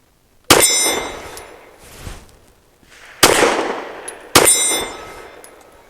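Three loud, sharp pistol shots ring out at an outdoor range, fired at a 12-inch round target at 20 yards, with a metallic ring and echoing tail after each, the last two closer together.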